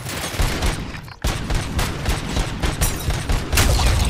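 Heavy gunfire in the video game Robocop: Rogue City, loud continuous bursts of rapid shots with a brief gap, then more dense firing.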